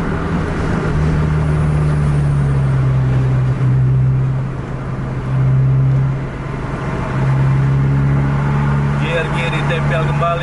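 A car engine drones loudly and steadily as the driver accelerates hard on a road in Aceh while overtaking an Avanza, with the pitch holding strong and dipping briefly between pushes.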